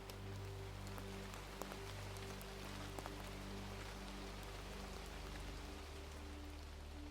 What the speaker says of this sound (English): welcome the springtime rain